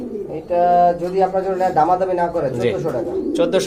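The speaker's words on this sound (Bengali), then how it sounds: "খুবই সুন্দর অনেক বড় কবুতর" Large pigeons at a sale, a breeding pair of male and female, coo in deep repeated throaty calls close by, mixed with people talking.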